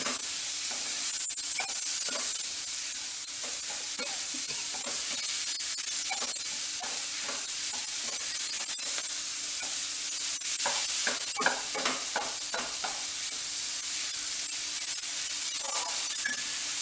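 Cauliflower and egg frying together with masala on a low flame make a steady high sizzle, with repeated scraping and clinking as the pan is stirred.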